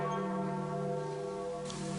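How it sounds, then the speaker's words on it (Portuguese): Church bells of the Basilica in Rome toll for the Pope's death, a sustained, ringing tone with rich overtones that hums steadily throughout, far and resonant. "os sinos da Basílica anunciaram para Roma a morte do pontífice"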